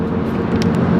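Steady low rumble of a car being driven, a continuous road and engine drone heard from inside the cabin.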